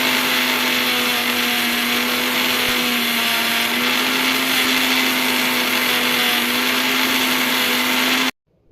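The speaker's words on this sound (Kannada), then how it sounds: "ಅದನ್ನು ಮಿಕ್ಸಿ ಮಾಡಿ ನೋಡಿ ಈ ಥರ ಆಯಿತು." A mixie grinding dried drumstick leaves, a loud, steady high-pitched motor whine with a constant hum that runs unbroken for about eight seconds before cutting off abruptly.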